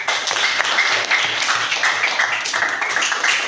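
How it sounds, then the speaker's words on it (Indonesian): A group in a classroom claps together in a dense, steady round of applause that lasts a few seconds, loud and close with no talking. "Tepuk tangan untuk kita semuanya."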